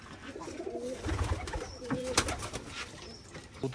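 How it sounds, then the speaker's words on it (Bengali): Giribaz pigeons at a pigeon farm give low, rolling coos that rise out of a cluttered background, with a few faint chirps and thumps around the birds and no clear speech. "অনেক কবুতর দেখতে পাচ্ছেন"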